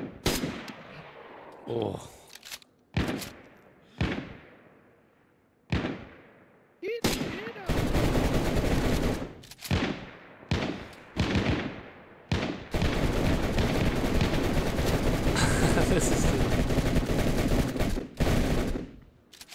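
Gunfire in the survival video game DayZ comes as a series of sharp single reports spaced out, then turns to long dense bursts of rapid fire, loud and close, with a brief voice exclaiming between shots.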